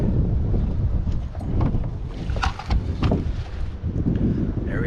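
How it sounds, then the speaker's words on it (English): Strong wind on a lake during kayak fishing in Wisconsin, loud gusty buffeting across the microphone with scattered knocks and splashes nearby. "Very, very windy day out here."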